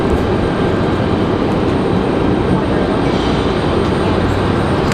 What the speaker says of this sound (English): Hear that one in that A320,